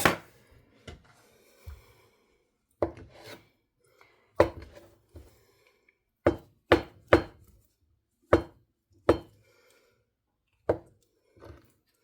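A knife chops food on a cutting board in sparse, irregular knocks, single strikes and quick pairs spaced across a quiet kitchen, close and fairly soft.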